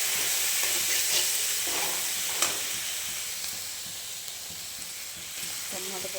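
Masala mixed with chili and spice powders sizzles in a pan for paneer sweet corn kurma, a steady close frying hiss broken by scraping stirs.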